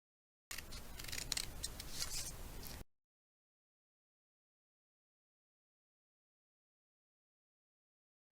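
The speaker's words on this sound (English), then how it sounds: "So I'm going to take my scissors." Scissors snip through folded paper for a snowflake, a quick cluster of crisp close cuts lasting about two seconds, then silence.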